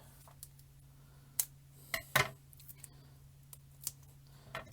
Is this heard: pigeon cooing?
no